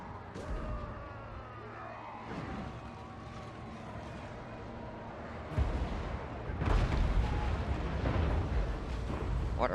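Heavy stone-throwing artillery in Total War: Warhammer booms in the distance over a low battlefield rumble, with one thud early and a stronger pair of heavy impacts near the end.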